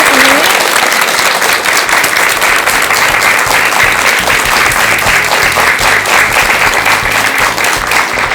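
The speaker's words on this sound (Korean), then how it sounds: "큰 박수 한번 부탁드릴게요." Loud, sustained audience applause closes a televised Buddhist lecture on ritual music and dance, a thick wash of clapping holding steady from start to finish.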